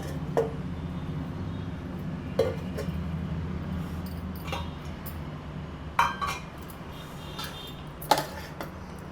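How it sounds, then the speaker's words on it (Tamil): A spoon stirs coriander leaves and mint into mint biryani in a metal pot, giving sparse, sharp clinks against the pot about every two seconds over a quiet background. "மல்லித்தலை புதினாவை போட்டு கலந்து விட்டுக்கலாம்."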